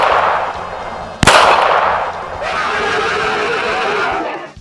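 Two close, loud gunshots fired at a barking dog's target at night, a sharp crack followed a beat later by a second, heavier blast with a rolling, echoing tail over steady background noise.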